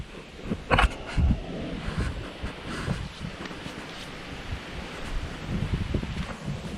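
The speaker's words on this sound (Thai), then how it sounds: "ลมก็แรง" Strong wind gusting across a microphone beside a river while fishing below a hillside, with rustling and a low rumbling roar, loudest in bursts near the start and steady throughout.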